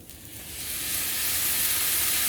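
Vegan pad thai noodles and sauce hit a hot pan, a steady broadband sizzle that swells louder over a couple of seconds and holds, close and continuous with no voices.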